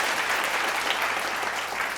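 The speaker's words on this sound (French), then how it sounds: "Des applaudissements pour M. Hervé Mouka" An audience at a fashion event gives a guest a dense, continuous round of applause, steady and fairly loud throughout.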